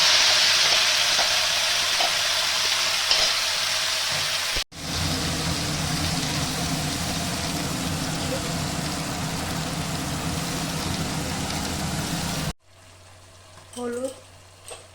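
Masala paste dropped into hot oil for paneer masala, a steady loud sizzle and hiss that cuts off abruptly near the end, with a brief voice speaking afterward.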